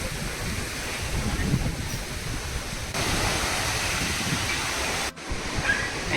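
Sea waves washing in at Gopnath Beach, a steady broad rush of water that swells slightly, fairly loud and continuous.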